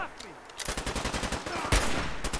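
Rapid bursts of turret gunfire rattle out in Fallout 4, a dense stream of sharp shots following one another after a brief quieter start, with one heavier hit near the end.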